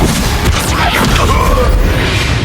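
The Descendo spell impact in Hogwarts Legacy lands as a loud, heavy boom with a rumbling low end, followed by swirling magical whooshes across the whole short moment.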